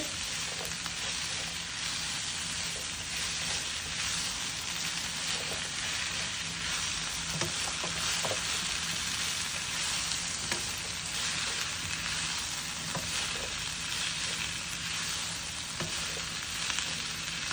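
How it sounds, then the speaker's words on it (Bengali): Sautéed chicken pieces fry in hot oil in a pan while a chicken cashew nut salad is prepared. A dense, steady sizzle carries on throughout, with occasional soft stirring scrapes and no talking. "এখন আমি এই যে সতে করা চিকেনগুলো রেডি, আমি চিকেনগুলো অ্যাড করে দিলাম।"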